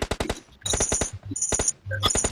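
Gunfire in the battle-royale game PUBG: rapid bursts of sharp shots in quick rhythmic clusters, broken by short pauses, loud and close.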